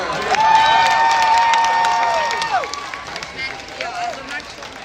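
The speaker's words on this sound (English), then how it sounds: "let's hear all the claps from the Hungarians who are here" A crowd at Hungarofest in Toronto claps and cheers, the applause fairly close and steady while voices call out over it and a tonal whistle or horn rises above the noise.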